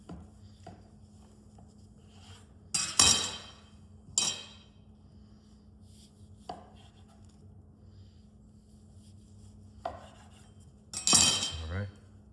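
A knife cuts bread into chunks for bread pudding, making a handful of sharp, separate thuds and clinks on a cutting surface, spaced unevenly across an otherwise quiet kitchen.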